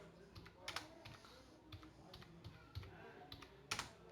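Quiet typing on a computer keyboard, irregular clusters of light key clicks with brief pauses between bursts, close to the microphone in a calm room.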